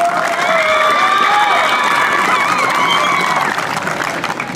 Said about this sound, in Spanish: Un fuerte voto de aplausos, por favor.